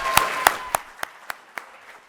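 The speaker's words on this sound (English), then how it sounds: "Round of applause." A small audience at a university business pitch competition gives a finalist slow, spaced claps, about eight distinct claps that fade and thin out, close and sparse rather than a full ovation.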